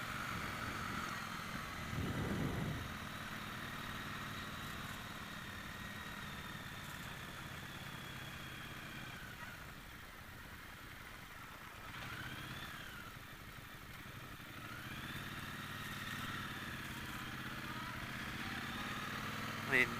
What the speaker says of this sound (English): Some nice engine braking